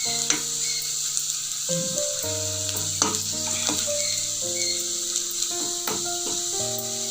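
Potato pickle ingredients fry in hot peanut oil with a loud, steady sizzle and hiss close by, alongside soft stirring scrapes and faint tonal background sounds, without any speech.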